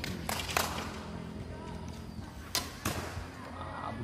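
Arrows striking a target at semi-indoor archery practice in a stadium in Aceh Tamiang, heard as a few sharp, loud impacts in two close pairs over a low background hum.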